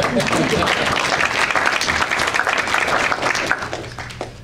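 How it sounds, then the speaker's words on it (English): An audience at a 2009 Gateway Sports Hall of Fame induction speech breaks into steady, dense applause that fills the hall from start to finish before thinning slightly at the end. "You're welcome to clap if you want."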